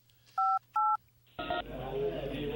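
Two short telephone dialing tones beep in quick succession over a low line hum, followed by a burst of noisy phone-line audio as the call connects.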